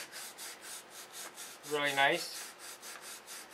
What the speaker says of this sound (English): It's the detail sanding.